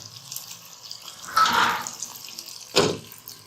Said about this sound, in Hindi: अब हम इसमें थोड़ा सा पानी डालकर और इसको कवर करके रख देंगे